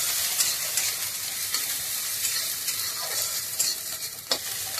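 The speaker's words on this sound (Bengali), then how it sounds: "পেঁয়াজটাকে ভালো করে ভেজে নেবা।" Chopped onion fries in a pan while being stirred, a loud close hiss of sizzling oil broken by scraping and clatter from the spoon.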